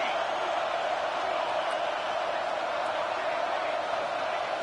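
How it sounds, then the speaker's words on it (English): Crowd noise from a fired-up stadium at an LSU versus Tennessee college football game, a dense, steady roar at a constant level that never lets up, sounding distant and massed, with no single voice standing out. "It's early, but this crowd is fired up. Listen to this noise here."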